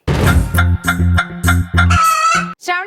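A rooster crow sound effect on a TV game show, close and loud, a string of short harsh syllables rising into a drawn-out final call.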